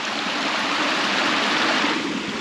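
A small waterfall on a river at a spot once dammed into a little pond, running at low water level, pours in a steady, close, broadband rush of falling water with no voices.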